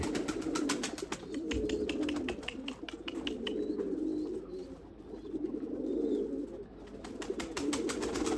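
Several Erzurum white pigeons coo in soft, overlapping rolling calls, with faint chirps and fluttery ticks around them.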